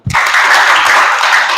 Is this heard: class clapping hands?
yes